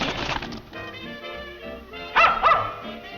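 A dog barks in a 1938 comedy film, a couple of sharp, loud barks near the end over an earlier muffled, rumbling stretch, with no speech.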